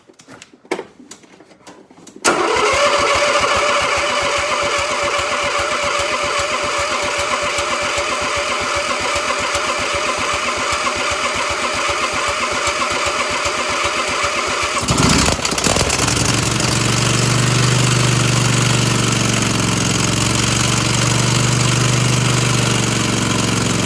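Cold start of a motorcycle engine in winter, a brief cranking burst then the engine catches and settles into a steady, loud idle that holds, with a shift in tone near the end.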